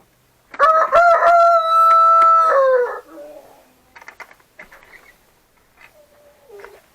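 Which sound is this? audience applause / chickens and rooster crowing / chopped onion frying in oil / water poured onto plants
chickens and rooster crowing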